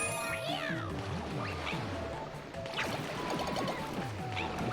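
Meows ring out in Super Mario 3D World after the cat suit power-up is picked up, several bright cat calls in quick succession over busy game music and effects.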